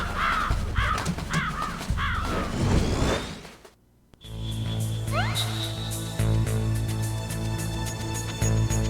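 A raven caws repeatedly in the Metal Gear Solid video game, a string of harsh, rhythmic croaks over a dark game soundscape, followed by a brief silence and a shift into a humming electronic ambience.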